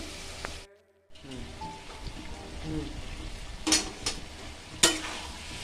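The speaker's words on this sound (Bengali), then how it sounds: "দেখুন মশলাটা কষানো হচ্ছে" Spice paste sautés for a potato, pointed gourd and prawn curry, with a soft, even sizzle and occasional sharp spatula scrapes after a short silent break near the start.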